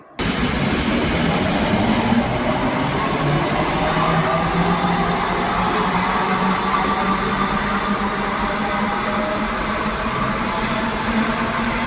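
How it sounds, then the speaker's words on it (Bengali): Steady rumble and roar of a Kolkata metro train in motion, loud and continuous from inside the carriage, with a faint rising whine underneath. "বরানগর মেট্রো স্টেশন থেকে মেট্রো ধরে মাত্র ২৬ মিনিটের পথ অতিক্রম করে আমরা মেট্রো করে অতি সহজেই পৌঁছে গেলাম"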